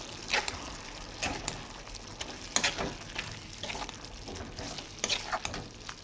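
Ivy gourd and tomato curry stirred in a pan, a spoon scraping in repeated strokes every second or so over a low, steady sizzle, fairly quiet and close, with no talking.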